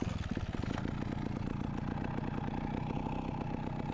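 A TRRS One RR fuel-injected motorcycle engine idles steadily after a cold kick start, a loud, close, even mechanical putter running throughout with no talk over it.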